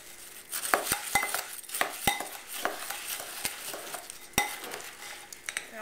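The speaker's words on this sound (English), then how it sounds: "Basically, you're just going to mix this all together." Ginger snap pie crust mixture being stirred in a bowl, with repeated scraping and clinking of a utensil against the bowl in an uneven rhythm, fairly close and moderately loud.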